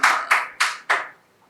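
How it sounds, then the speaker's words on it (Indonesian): Four sharp hand claps in quick, even succession, fairly close and dry, trailing off after the last one, at an audience gathering for a community art-practice discussion. "wah, kok tepuk tangannya lama ya"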